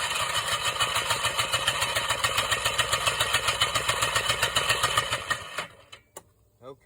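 An ATV quad engine cranks with its throttle held wide open during a compression test. The starter churns in a fast, even rhythm for about five seconds, then stops into near silence.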